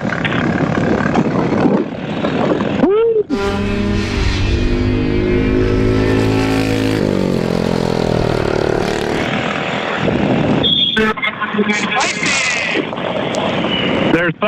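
Tillotson T4 racing kart engine at speed on a track, a loud steady buzzing drone with rising and falling pitch as it accelerates and shifts load, continuous throughout with a brief dip near the start, a voice speaking over it.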